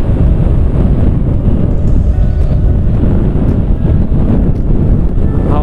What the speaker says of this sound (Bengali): তোমরা হয়তো শুনতে পাচ্ছ হাওয়ার বেগ কেমন।